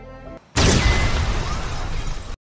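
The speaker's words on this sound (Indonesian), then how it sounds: "tiba-tiba saja sebuah bom meledak di dekat pria itu" A sudden loud bomb explosion erupts after a brief quiet, roaring as a dense blast for nearly two seconds before cutting off.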